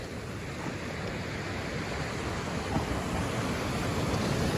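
Ocean surf rolls onto a cold beach in a steady, loud wash of broadband noise, with wind buffeting the microphone and no voices.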